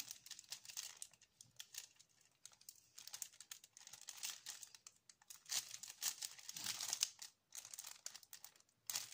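Close, continuous paper crinkling and rustling with dense irregular crackles, rising and falling in intensity; no one speaks.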